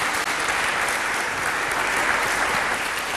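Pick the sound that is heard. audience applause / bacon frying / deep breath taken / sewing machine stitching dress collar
audience applause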